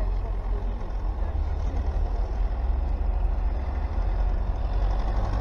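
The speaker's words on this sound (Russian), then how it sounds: "Где-то слышу звук одинокого трактора." Tractor engine rumbling as it drives along a snowy road, a steady low, throaty drone with a continuous mechanical roar, fairly close and unbroken for the whole stretch.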